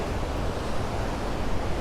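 Steady broadband rush of a river flowing past sturdy rocks outdoors, a continuous even wash of water that fills the whole moment without breaks or voices.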